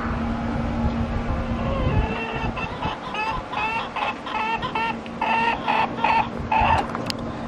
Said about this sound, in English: chickens are making noise over there.